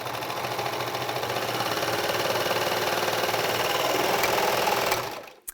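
A serger runs at speed sewing a narrow rolled hem, a loud rapid mechanical whir with fast even stitching, then slows and stops near the end, followed by a single click.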